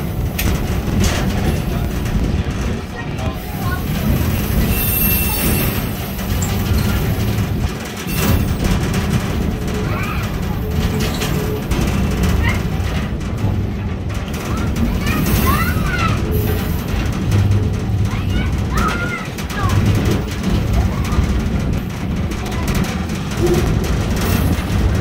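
A scenic train ride out of Leadville, Colorado, heard from on board as a steady, loud rolling rumble with wind noise, continuing for the whole stretch with faint voices mixed in.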